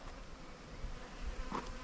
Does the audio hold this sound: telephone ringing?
no